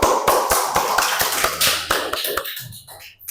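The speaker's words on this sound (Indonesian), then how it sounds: "Kita berikan aplaus sekali lagi" A classroom group applauds another group after their presentation: a burst of rhythmic hand claps, fairly loud and close, thinning out and fading over about three seconds.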